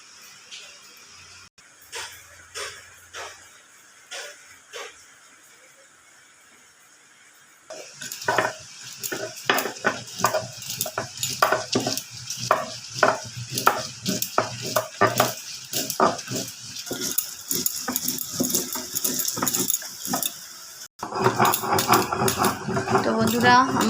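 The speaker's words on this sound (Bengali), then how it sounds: "পাতা রসুন কালো জিরে কাঁচা লঙ্কা ভালো করে বেটে নেব শিলের মধ্যে" Kharcol leaves, garlic greens, black cumin and green chillies are ground on a stone slab with a grinding stone. A few light taps give way to loud, close, steady rhythmic scraping strokes that continue to the end.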